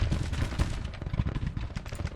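Cannon battery firing in Grand Tactician: The Civil War, a dense, continuous rumble of booming shots and crackling gunfire rolling over one another with no pauses, loud and close.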